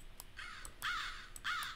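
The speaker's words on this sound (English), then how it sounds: "Crows?" Crows in a video game caw in three bursts, the last two loudest, over a low steady hum with no talk.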